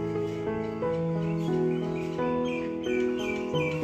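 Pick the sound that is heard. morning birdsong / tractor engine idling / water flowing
morning birdsong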